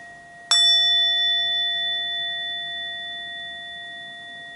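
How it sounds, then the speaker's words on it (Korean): A single bell strike rings out with a clear sustained tone that slowly fades away over several seconds, alone in a quiet room. "지금 이 종소리가 점점 희미해지면서 종소리가 흔적을 쑥 감추는데"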